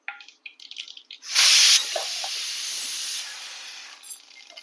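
Mustard seeds drop into hot oil for a Tamil brinjal and lima bean kuzhambu, bursting into a loud, close hiss of spluttering that settles into a steady fizz, with faint pops and no speech.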